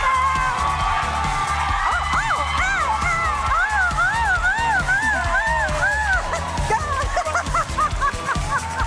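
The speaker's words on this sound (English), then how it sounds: "Lively crowd here." A lively studio audience cheers and whoops at a talk show entrance, with warbling yelps and dog-like barks rising over a steady crowd roar, loud and close, while a voice speaks underneath.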